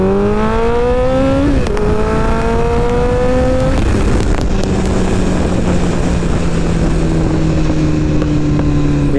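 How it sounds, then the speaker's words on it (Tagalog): A Kawasaki ZX-14R sport motorcycle runs at full power, its engine climbing sharply through rising revs with quick gear changes, loud and close under heavy wind rush, with no voices. "So ito na ang full power ng ZX-14R."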